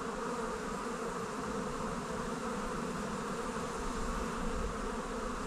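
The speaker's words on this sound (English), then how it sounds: "I'm causing chaos here in the hive" Honey bees buzz in an opened hive during a swarm-prevention split, a dense, steady drone that fills every moment, close and unbroken, with no voices.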